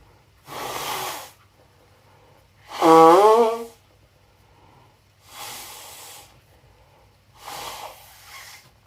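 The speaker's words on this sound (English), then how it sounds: "I need to blow my nose." A person blows their nose in several bursts, four loud, close, breathy honks and snorts separated by pauses, with one wetter, rattling blow in the middle.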